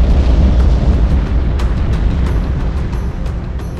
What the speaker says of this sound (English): Lava erupts from the crack, spraying and flowing out across the valley